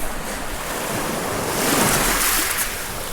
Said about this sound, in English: The waves are moving the rocks around quite a bit